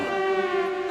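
An ambulance siren holds a loud, steady wailing tone close by, with no talking over it.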